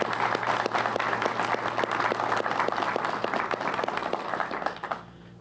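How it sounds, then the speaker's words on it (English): Audience at a spring 2024 law enforcement training graduation ceremony breaks into steady, sustained clapping that fills the hall, then tapers off and stops after about five seconds. "let's give them a round of applause."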